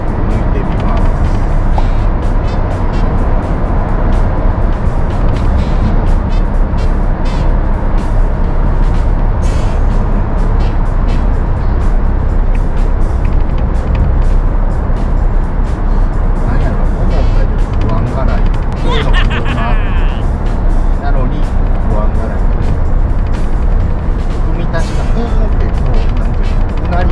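A Suzuki Jimny XC (JB64W) drives along a road and overtakes a truck, with loud, steady engine and road noise throughout and a brief passing swell about two-thirds of the way in.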